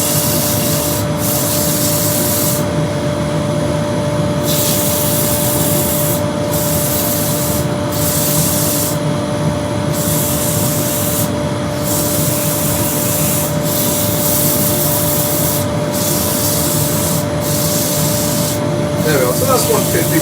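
Rotary sanding with 150 grit on a turned wooden platter on a lathe gives a loud, continuous rushing hiss over a steady motor hum, close up, with a regular pulsing from the spinning piece and no talk.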